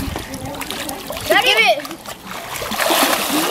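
Water splashes loudly during a family water volleyball game, with a sharp splatter burst midway. Children and adults talk and call out around it.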